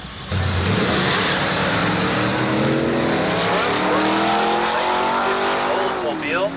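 Antique drag race cars, a 283 against a 350, roar loudly down the strip at a San Diego antique drags event at Carlsbad Raceway, engines revving and rising in pitch through the gears, with a faint announcer voice underneath.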